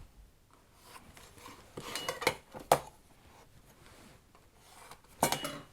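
A pencil scratches and taps on wood stock while pocket hole positions are marked, giving short faint rubbing strokes with a few sharper clicks near the end, and no one speaks.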